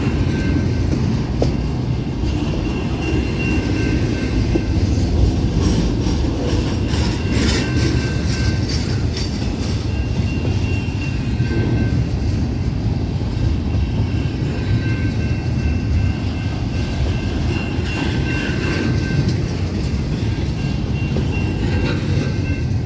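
A CSX freight train rolls past close by, wheels clattering loudly and steadily over the rails with brief metallic squeals as it slows toward a stop, a continuous heavy rumble throughout.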